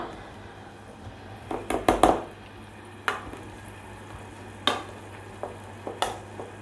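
Potatoes, about 600 grams, being mashed by hand with a masher for pie filling, giving soft irregular squishy thumps and scrapes against the bowl, sparse and fairly close.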